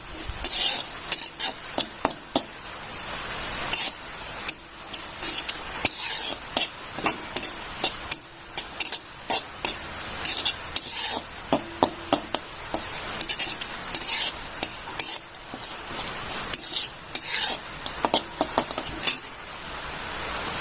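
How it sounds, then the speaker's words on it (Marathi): Grated coconut is stirred and roasted in a pan over low heat, a steady soft sizzle broken by frequent sharp scrapes and clinks of a spoon against the metal, close and continuous without talk. "आता इथं थोडंसं खोबरं पण घालून घ्यायचं त्याच्यात छान असं थोडंसं हलक्या याच्यावर आपल्याला परतून घ्यायचं"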